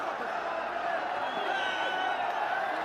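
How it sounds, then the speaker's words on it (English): A crowd cheers at a cricket one-day international between Afghanistan and South Africa in Sharjah, a broad sustained roar from the stands with a commentator's voice running over it. "You can hear the crowd cheering him on"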